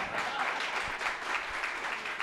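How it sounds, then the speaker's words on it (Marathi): Audience at a memorial award ceremony applauding, a dense continuous burst of many hands clapping, fairly even in loudness throughout the short stretch. "वाजवा टाळ्या"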